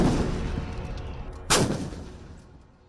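A Dhanush artillery gun fires one loud, sharp blast midway through, which rolls into a long rumbling decay over the fading tail of an earlier boom. No voices are heard.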